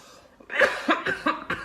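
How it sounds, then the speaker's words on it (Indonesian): A few short coughs in a row, close and fairly loud, with brief pauses between them. "batuk saya masih ada"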